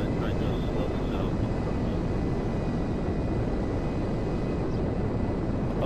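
A fighter jet taxiing in Grand Theft Auto V, a loud, continuous engine roar with a faint high whine that holds steady throughout.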